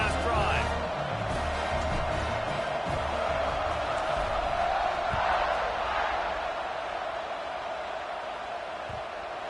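A college football video game stadium crowd roars and cheers steadily throughout, a dense wash of voices with occasional louder swells.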